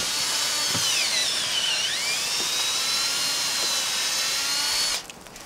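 A high-pitched power drill whines steadily for about five seconds, rising and dipping in pitch as it bores into a tree trunk for tapping, then cuts off abruptly.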